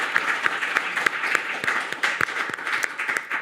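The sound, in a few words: applause for Claire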